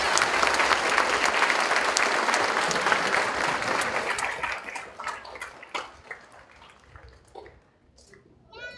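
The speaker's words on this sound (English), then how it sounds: "Now we clap." A crowd at an elementary school 5th grade awards ceremony claps in a dense burst of applause that gradually thins out into scattered, fading claps.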